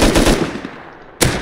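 Gunfire in the Rust survival game: a rapid burst of loud shots at the start, a quieter stretch, then one sharp, close shot near the end.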